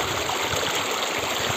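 The Dhansiri River near the Assam–Nagaland border streams over large rocks in a loud, unbroken rushing wash with faint low gurgles beneath, heard up close and without voices.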